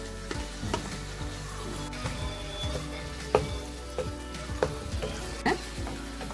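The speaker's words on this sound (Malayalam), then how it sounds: "ഞാൻ പക്ഷേ നെയ്ക്കകത്ത് നിന്ന് ഒരു വഴറ്റി എടുക്കുന്നതേ ഉള്ളൂ" Onion sautéing in ghee in a pan makes a steady crackling sizzle, punctuated by several sharp knocks and scrapes as it is stirred, with no talking.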